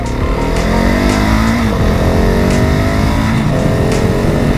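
A Husqvarna 701 Supermoto single-cylinder engine revs loud and close, its pitch climbing and falling steadily with no talk over it.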